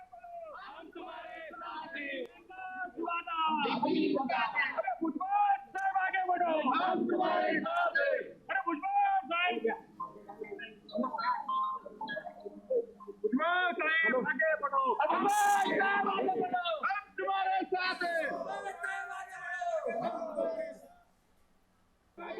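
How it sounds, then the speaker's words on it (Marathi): Party workers at Bhujbal Farm in Nashik shout celebratory slogans in unison, a loud, sustained crowd chant of rhythmic rising cries that carries on almost without pause before dropping away near the end. "कार्यकर्ते जे आहेत घोषणाबाजी करतायत"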